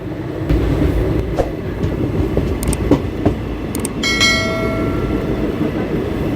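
A train rumbles past close by, loud and continuous, with clattering wheels, sharp metallic clicks and a brief high squeal.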